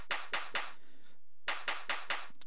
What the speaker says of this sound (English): I've got a clap here.